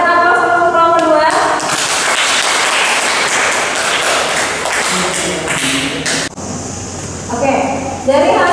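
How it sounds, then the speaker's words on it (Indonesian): A roomful of participants claps for group 2 after a presentation: dense, loud applause that runs for several seconds, then tails off, with voices speaking at the start and end. "Kita berikan aplaus untuk kelompok 2."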